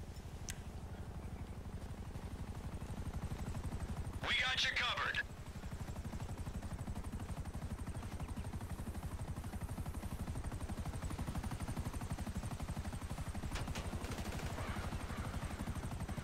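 A helicopter drones steadily throughout a GTA Online beach match, its low rotor thrum constant beneath a short burst of gunfire-like crackle near the middle, with faint game sounds scattered on top.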